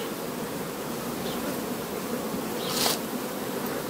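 Honey bees crowding a hive frame make a steady, dense buzzing drone that fills the whole stretch, close and continuous, with a brief louder swell near the end.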